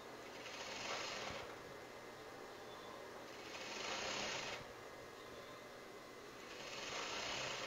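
A sewing machine runs steadily while stitching an invisible zipper, a close continuous mechanical whir that swells in three slow waves as the stitching speeds up and eases off.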